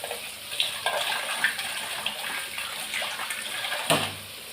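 Water splashes and gushes into a cooking pot while bottle gourd curry is being made, a running pour with small bursts and splashes, ending in a louder slosh.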